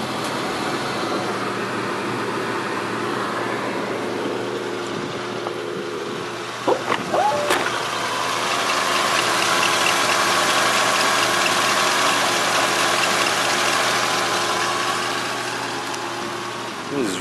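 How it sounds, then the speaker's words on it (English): A 1972 Mercury Cougar XR7 convertible's 351 V8 turns over and settles into a steady, quiet idle, a continuous low engine rumble close by with a brief burst of starter noise near the middle. "we're going to fire up the XR7, let you hear this 351"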